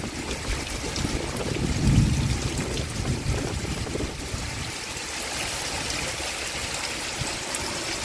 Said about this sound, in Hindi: बहुत पानी बरस रहा है